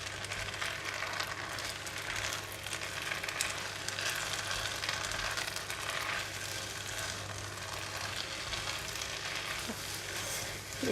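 Bean sprouts and chives fry with flat kuey teow rice noodles, tofu and dried prawns in a hot pan, giving a steady, even sizzle throughout, close and fairly quiet, with light stirring and no talk.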